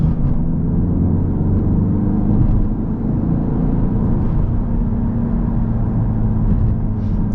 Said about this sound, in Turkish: Şöyle biraz hızlanmaya bakalım. Şu an 40, 40'tan hızlanıyoruz.